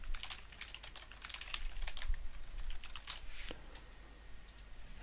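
An administrator password is typed on a computer keyboard during Windows setup in a virtual machine, giving a quick, close patter of keystrokes.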